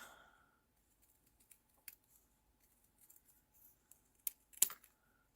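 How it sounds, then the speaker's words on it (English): Sharp scissors snip paper leaves for a handmade card, giving a few faint, scattered clicks that end in a louder pair of crisp cuts near the close, with no talking. "this is where the sharp scissors really come in handy"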